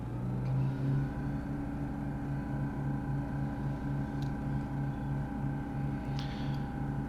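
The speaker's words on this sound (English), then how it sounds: "Let's do some run-ups. There we are. Popping over to here, RPM going up to 1800." DA-22 aircraft engine in Microsoft Flight Simulator held at an 1800 RPM run-up, a steady, pulsing propeller drone with a low throb, heard alone without talking.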